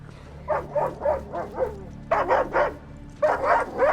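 Dogs in the TV show The Last of Us bark in rapid bursts of three to five sharp, yipping barks with short pauses between them, close and loud over a low steady hum.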